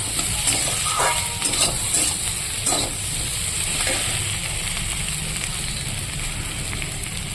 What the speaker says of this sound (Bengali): সমস্ত মশলাটা ভালো করে ফুলকপির সঙ্গে কষিয়ে দিব